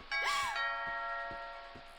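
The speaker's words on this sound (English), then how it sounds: "Ding dong." A two-note doorbell chime rings once in the video game What Remains of Edith Finch, clear and close, its tones lingering and slowly fading while faint soft taps sound underneath.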